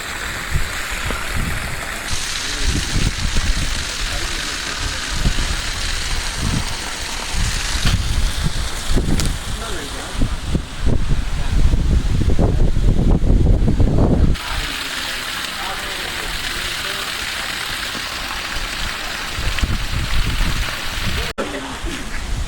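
Concrete mix for a swimming pool deck churns with water, a continuous wet sloshing and gushing texture that swells and drops in intensity over time.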